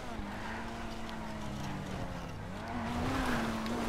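A Pfister 811 sports car in GTA V, its engine holding a steady, continuous drone that rises slightly in pitch near the end, heard alone at moderate loudness.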